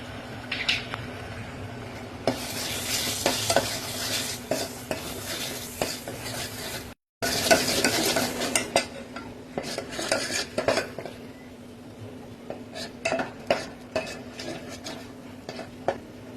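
Homemade red chili powder stirred through hot oil in a metal pan, with busy scraping and clinking of the utensil over a soft sizzle, close by, broken by a brief cut, and no voices.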